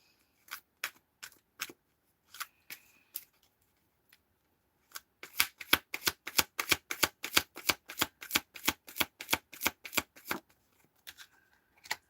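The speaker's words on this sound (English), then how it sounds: "Shuffle." Tarot cards are shuffled close by: scattered single snaps at first, then a fast run of crisp riffling flicks, ending with a few loose taps.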